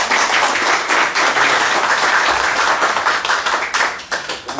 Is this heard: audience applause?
yes